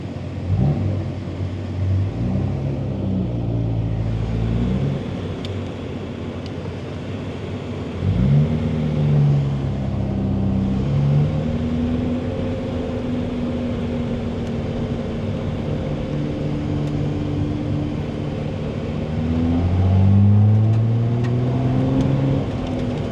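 1979 Datsun 280ZX with a fuel-injected L28E engine and 5-speed manual, driving as the engine revs rise and fall through several gear changes, a steady close interior drone with rumble.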